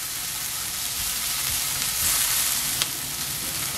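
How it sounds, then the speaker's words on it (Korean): Onions and green onions stir-fry in a pan, a loud continuous sizzle with bursts of crackle and a brief scrape of stirring, close up and without speech. "양파와 대파를 넣어주겠습니다. 익을 때까지 볶아주겠습니다."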